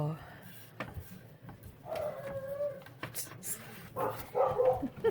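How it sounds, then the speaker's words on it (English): A small dog gives a couple of short, sharp indoor barks, spaced a couple of seconds apart, with soft thuds and faint background voices between them. "Oh, and see, and that other little bark was Fergie got in her way."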